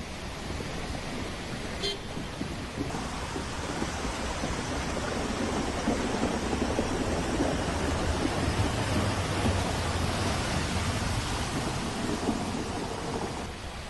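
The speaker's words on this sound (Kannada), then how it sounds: "ರಾಜ್ಯದಲ್ಲಿ ಮುಂಗಾರು ಮಳೆ ಚುರುಕು ಪಡೆದುಕೊಂಡಿದ್ದು ದಕ್ಷಿಣ ಕನ್ನಡ ಜಿಲ್ಲೆಯಲ್ಲಿ ವರುಣನ ಅಬ್ಬರ ಜೋರಾಗಿದೆ" Heavy monsoon rain in Dakshina Kannada roars as a dense, loud, unbroken wash, with a low rumble swelling through the middle and faint traffic noise underneath.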